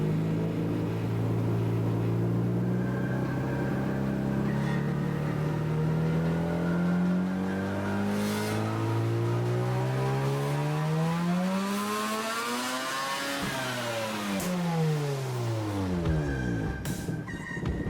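A car engine fitted with a custom-made muffler, built to resemble the Quadra V-Tech from Cyberpunk 2077, revs smoothly up to the redline and falls back, its deep exhaust note climbing and dropping steadily and loud throughout with no talk.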